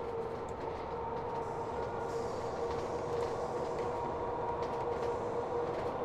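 An S-Bahn train in the Train Fever video game rolls along with a steady, even rumble and faint rail clatter, continuous and moderately distant with no voices.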